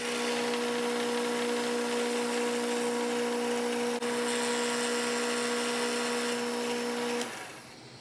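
Milling machine cutting a metal piece flat: a steady, close, high-pitched mechanical whine with a constant tonal hum that runs evenly and then winds down near the end, with no talking.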